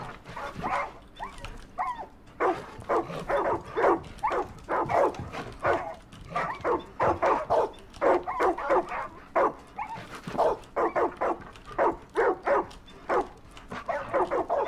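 Dog barking from the video game Far Cry 5: a long run of repeated sharp barks and yips in quick rhythmic bursts, fairly close and steady throughout, with no talk over them.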